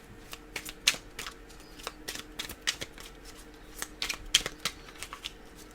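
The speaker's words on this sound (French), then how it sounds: "On va remélanger les cartes." Tarot cards are shuffled by hand at close range, a series of sharp riffling bursts and soft slaps in an irregular rhythm, with quiet gaps between them.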